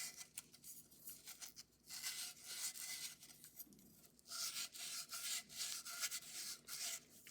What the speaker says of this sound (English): get a little strip of 320 sandpaper, and you just come in here